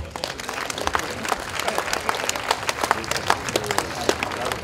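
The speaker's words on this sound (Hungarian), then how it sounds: "Tiszteletünk és elismerésünk jeléül küldjünk nekik innen a távolból is egy nagy tapsot." Crowd at a town commemoration ceremony giving a big round of applause in honour of Olympic athletes, many hands clapping steadily with scattered louder claps, sustained and moderately near, some voices mixed in underneath.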